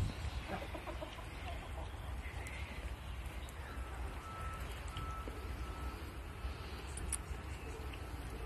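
A chicken clucks at a farm among the animals in short scattered bursts, fairly quiet against a steady outdoor background rumble.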